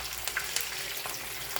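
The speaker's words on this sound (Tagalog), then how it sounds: "Siyempre, ingat tayo sa pagpiprito kasi yung mantika masakit at mainit." Tuyo, dried fish, frying in hot oil gives a steady close sizzle with scattered sharp crackles and pops over its short span.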